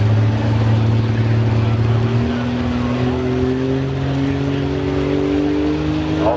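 A pulling truck at a truck and tractor pull roars loud and steady at high RPM, its engine pitch climbing slowly under a constant heavy drone.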